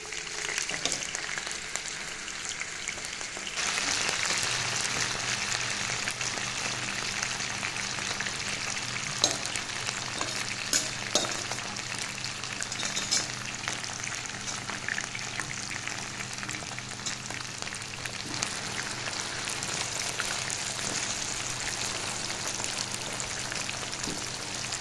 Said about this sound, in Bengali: হচ্ছে ফুলকপি ভাজবো তেলে, আলু ভাজা হয়ে গেলে তারপর ফুলকপি